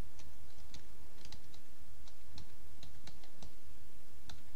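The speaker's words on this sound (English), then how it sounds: "I'm going to type in the message that I want." Computer keyboard typing a message, with light irregular key clicks spread across a few seconds over faint background hiss, close and with no voices.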